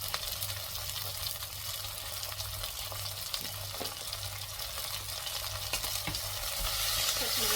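Tomato and green chilies frying in a pan for millet sambar, a dense continuous sizzle with soft stirring scrapes throughout, close and steady, growing slightly louder toward the end.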